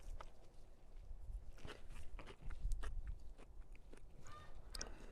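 Someone bites into a small pluerry fruit and chews it up close, giving soft crisp crunches and wet mastication clicks at irregular intervals, faint and with no talking.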